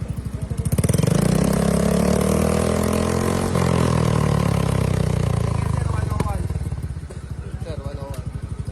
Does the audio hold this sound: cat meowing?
no